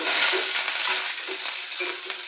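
Dried red chillies, cumin seeds and curry leaves fry in hot oil for a chutney tempering, giving a steady close sizzle with light crackles. No one speaks.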